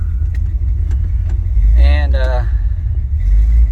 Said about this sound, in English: we're gonna go for a little cruise around Lamar